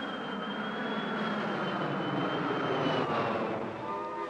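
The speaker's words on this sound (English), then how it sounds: "Now the acoustically treated plane." A jet airliner fitted with acoustically treated engines passes over, giving a continuous, moderately loud rushing roar with a faint high whine that shifts slightly as it goes by; no talking.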